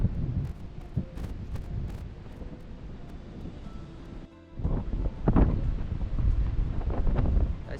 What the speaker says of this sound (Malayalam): ഇവിടെ അത്യാവശ്യം നല്ല കാറ്റ് വീശുന്നുണ്ട് കേട്ടോ.